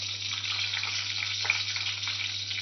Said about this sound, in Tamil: 2 வெங்காயத்தை நல்லா வெட்டி நல்லா வந்து வதக்கிக்கிறோம்